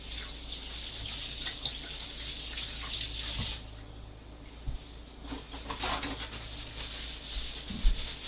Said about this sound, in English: Alright, wash my hands.